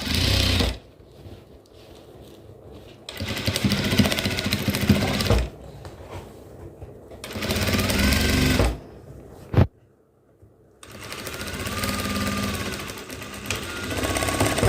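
A sewing machine stitches the sides of a crop top in loud bursts of rapid mechanical rattling, with short pauses and one longer silence between runs. No voices are heard.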